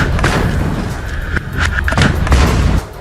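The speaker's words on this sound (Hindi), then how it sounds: "जिसके बाद जोरदार ब्लास्ट हुआ" A loud, booming blast of an armoured vehicle being destroyed in southern Gaza, with a rumbling low end and sharp bursts, followed by crackling debris-like noise for a few seconds.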